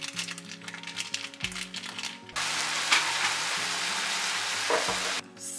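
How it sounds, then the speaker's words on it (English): Breakfast sausage browns in a pan for a breakfast dish with a steady hiss of frying. Over the first half a low musical tone sits beneath the sizzle. After that the broadband sizzle grows louder and fuller, and it cuts off near the end. "So the first thing we need to do is brown up our sausage."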